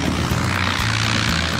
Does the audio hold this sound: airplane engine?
yes